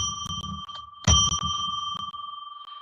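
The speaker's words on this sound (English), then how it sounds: "I'm going to ring a bell 3 times to declare sacred space." A bell rung to open a live psychic radio reading, with bright sustained ringing tones that sound three times, the strongest strike in the middle, over a low murmur of background noise.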